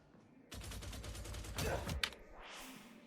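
Gunner gunfire in Warhammer 40,000: Darktide, a dense rapid burst of automatic shots lasting about a second and a half, swelling louder before a final sharp crack, with a rising whoosh after.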